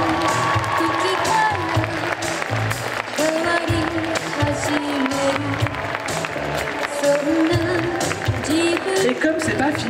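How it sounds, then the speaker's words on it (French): An audience at a cosplay stage show at a Japan and manga convention claps and cheers in sustained applause, with crowd noise and voices mixed in throughout. "Est-ce qu'on pourrait faire s'il vous plaît un tonnerre d'applaudissements pour ceux qui ont eu le courage de monter sur scène?"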